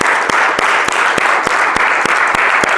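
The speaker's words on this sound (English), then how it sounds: "I want you to clap for yourself." Audience applauding themselves at a school talk on building resilient students: a dense, steady wash of many hands clapping with sharp individual claps standing out, loud and close, no speech.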